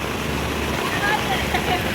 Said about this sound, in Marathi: गाईज बघू शकता गाडीत पाण्यात चालतच नाहीये